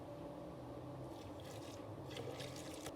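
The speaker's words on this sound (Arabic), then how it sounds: "بنلحقهم بكيستان المي الدافية" Warm water poured into a blender jar over tahini and fine semolina for qatayef batter, a steady close trickle and splash running throughout with no talk.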